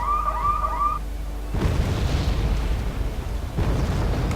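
Artillery shells explode in the wartime strategy game Wargame AirLand Battle, two heavy booming blasts about two seconds apart, each with a rumbling tail, following a brief warbling alarm tone.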